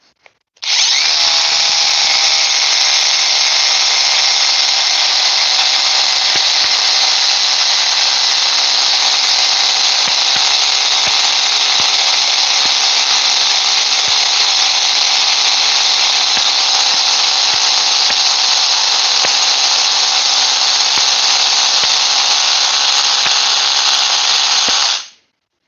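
A Bosch SDS rotary hammer runs in one unbroken burst of about 24 seconds, a loud, close, high-pitched motor whine with a steady buzzing hammer rattle that starts and stops abruptly.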